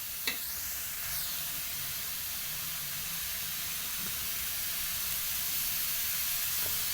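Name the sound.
oil sizzling in pan with onions for anda bhurji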